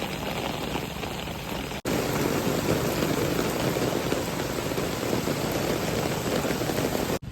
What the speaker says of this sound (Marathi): तर आता मस्तपैकी पाऊस पडता